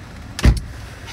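A car door or window thuds once, sharp and close, a single brief burst of getting into a car on a freezing day, with no one speaking.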